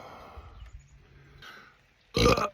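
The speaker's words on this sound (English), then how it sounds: "Pepper burp." A loud, deep burp erupts once near the end after someone eats a very hot pepper. It follows quieter shuffling and breathing, with no talk.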